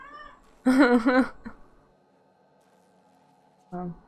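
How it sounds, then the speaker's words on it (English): An excited house cat meows loudly and close by, a long drawn-out cry followed by a short chirp after a pause, with no talk in between. "my cat's way too excited around my husband"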